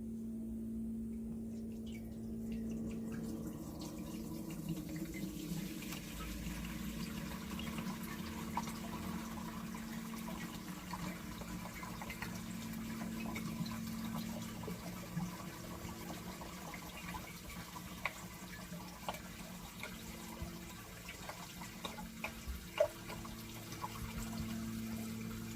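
A gallon of water is poured into the tank of an Echo MS402 backpack sprayer, a steady low splashing and gurgling fill that runs continuously for the whole stretch, with a few small knocks near the end.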